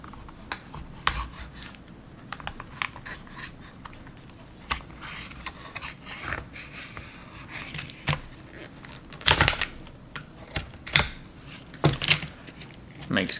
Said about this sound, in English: Makes getting into these bubble packs considerably easier.